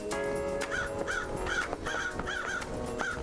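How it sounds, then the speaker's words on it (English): Several crows caw repeatedly in the video game Paradise Killer, a steady run of harsh, evenly spaced calls layered over a faint ambient hum, no speech. "There's a bunch of fucking crows."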